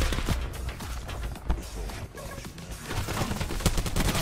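Rapid bursts of gunfire from the video game Call of Duty: Black Ops 4, dense and continuous with sharp peaks, close and loud throughout.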